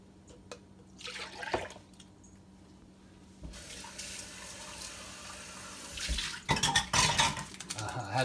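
A cup being rinsed at a kitchen sink after a stevia drink is mixed: tap water runs and splashes with clinks of dishes and cutlery, a quieter stretch before louder splashing near the end, close by.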